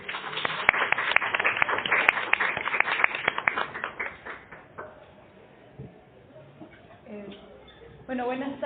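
Loud, dense clapping from an audience welcoming guests at a book presentation, rising and then fading out over about five seconds before a voice begins speaking.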